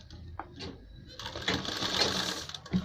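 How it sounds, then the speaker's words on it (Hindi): A sewing machine stitches a kurta collar nearby, a few soft handling sounds giving way to a steady whirring run in the second half, moderately quiet. "इसमें एक पैर के मार्जिन के हिसाब से हम सिलाई लगाते जाएंगे"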